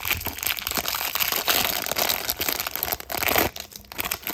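Plastic blind bag packaging for a Ryan's World toy crinkling and crackling up close as it is torn open, a dense run of sharp rustles with brief pauses.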